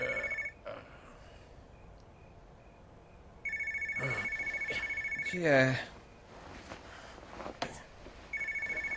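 A telephone rings in repeated bursts, first briefly and then in longer spells, with a voice and other noises in a dim room between the rings. The scene is from a poker drama.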